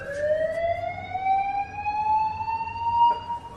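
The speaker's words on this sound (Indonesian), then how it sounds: "tiba-tiba ada security alarm yang berbunyi dari sebuah toko di belakang mereka" A store's electronic security alarm wails steadily with a rising, layered harmonic tone, loud and alone, sounding nearby.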